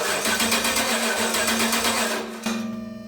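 Starter cranking a Gen III Hemi engine on factory components, a steady rapid rhythmic whir for about three seconds, loud and close, then cutting off sharply and briefly resuming.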